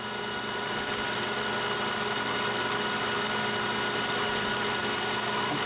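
A shop machine runs steadily at 1120 RPM, giving off a loud, continuous mechanical drone with an even engine-like hum and no breaks.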